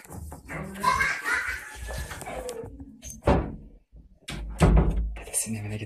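A door is shut indoors in a grandfather's house, giving a short dull thump among several knocks and bumps, while adults and someone talk around it.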